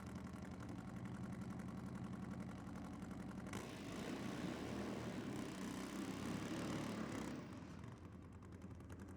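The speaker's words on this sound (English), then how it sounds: "we can hear the unmistakable sound of a Nitro burning, a top fuel Harley Davidson down there" A top fuel nitro Harley-Davidson drag bike does a burnout at Sydney Dragway, a steady, loud, rough engine roar that grows harsher partway through and then eases slightly, heard from a distance with no talk.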